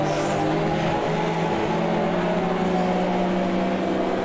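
A Porsche RSR race car engine in the racing game Automobilista 2 drones loudly and continuously with a high, buzzing tone, holding a steady pitch at speed with no speech.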